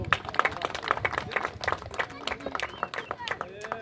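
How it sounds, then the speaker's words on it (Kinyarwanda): A crowd claps at a football trophy presentation among the Rwandan diaspora in Mozambique, giving a rapid patter of handclaps under a voice addressing the gathering. "amashyi menshi"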